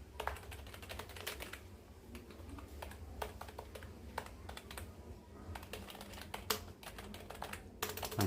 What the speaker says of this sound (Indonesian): langsung ngetik aja